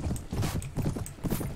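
A horse gallops in Mount & Blade: Warband, a steady rhythmic drumming of hooves, close and fairly loud, with no talk.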